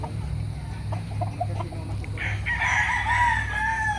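A gamecock stag rooster crows clearly in the second half over a steady low farm hum, preceded by faint clucks and bird calls in the background.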